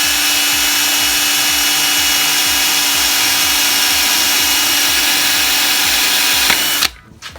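Power drill boring through a transmission filter housing, a loud steady whine with a repeating pulsing grind for about seven seconds, stopping abruptly at the end.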